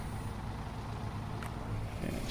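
Truck engine idling in the SnowRunner video game on Drummond Island, a steady low rumble that holds evenly throughout, close and continuous with no other sounds.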